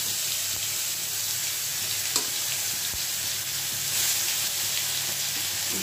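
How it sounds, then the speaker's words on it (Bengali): Nigella seeds and spice mix sizzle in hot oil in a home kitchen while cooking koi fish, a steady close hiss of frying that runs throughout with faint clinks and scrapes. "চলো তেলের মধ্যে একটু কালো জিরে ফোড়ন দেব"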